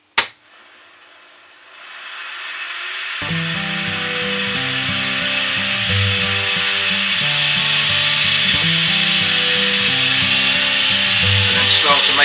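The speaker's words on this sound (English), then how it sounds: "Get the lathe turning nice and slowly to start with, because this is quite a big piece. Get the roughing gouge," A wood lathe spins up slowly with a large rolling pin blank, then a roughing gouge bites in with loud, continuous scraping and cutting marked by a rhythmic thump each turn as the uneven wood strikes the tool.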